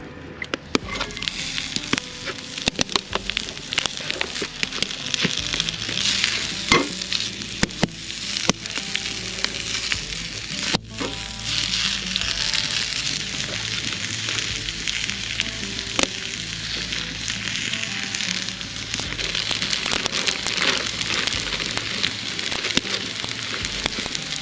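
Food fries over an outdoor campfire at a solo bushcraft camp, giving a steady, dense crackling sizzle with scattered sharp pops throughout, close and continuous without talk.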